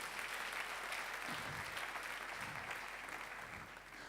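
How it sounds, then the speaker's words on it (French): A church congregation claps together through a Sunday service, steady dense applause holding from start to finish with a faint voice underneath. "acclamons pour le Seigneur Jésus-Christ"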